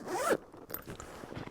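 A K&F Concept travel tripod bag's zipper is pulled open in one quick rising zip, close and crisp, followed by faint handling rustles of the fabric.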